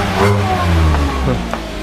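A Toyota Agya or Daihatsu Ayla car engine, after a combustion chamber cleaning, revs hard at full throttle and loud up close, the pitch climbing and falling in a sustained roar with no talking.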